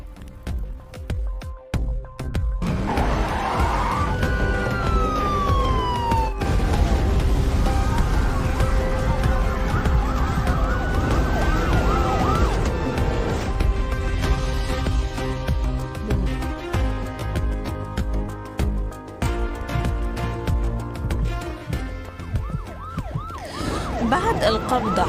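A police siren wails loudly and continuously, rising and falling through its cycle, with traffic and crowd noise around it.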